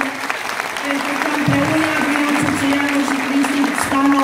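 A crowd at a political campaign event in Târgoviște, Romania, applauds a county council president: steady, dense clapping with tonal sound and voices running underneath.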